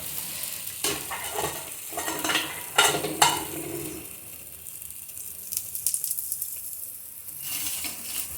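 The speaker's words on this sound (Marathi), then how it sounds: "मला असं वाटतं की खालच्या बाजूने शेकला आहे पराठा व्यवस्थित. जरा पलटी मारूया आपल्याला." An aloo paratha turned over on a hot griddle: a burst of scraping and clattering utensil knocks, then a softer, even sizzle as it cooks, close by and without speech.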